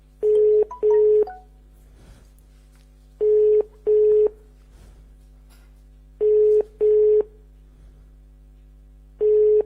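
A telephone number is dialed by keypad, its DTMF tones coming in crisp paired beeps in four clusters spaced a second or two apart over a low steady hum, clear and close.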